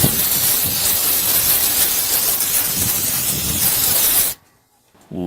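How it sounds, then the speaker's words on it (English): A close, steady hiss of aerosol lubricant sprayed onto the parts of an old sewing machine, held for about four seconds, then cut off abruptly into near silence. "we use lubricant that also removes rust and moisture. We spray it on all parts"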